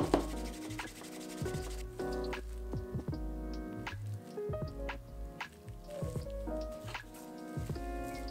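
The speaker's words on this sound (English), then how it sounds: "really go hard with the canvas to seal those edges" Leather sheath edges rubbed hard with wax and canvas give repeated close, soft friction strokes in an uneven rhythm, with faint background music underneath.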